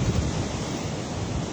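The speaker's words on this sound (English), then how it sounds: "it's really windy out here. Really, really windy." Strong wind blowing outdoors, buffeting a microphone with a loud, steady low rumble and whooshing gusts that fill the whole stretch without any voices.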